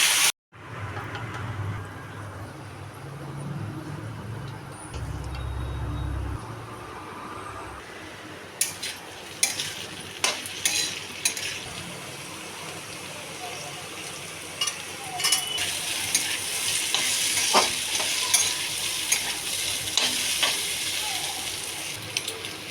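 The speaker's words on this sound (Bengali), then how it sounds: "তেল গরম হয়ে গেছে, এখন আমি আলুটা দিয়ে এখানে ভাজা করে নেব।" Potatoes and curry leaves fry in hot oil with a continuous close sizzle, punctuated by scattered sharp scrapes and clicks of stirring that grow busier toward the end, and a low rumble briefly sits under it early on.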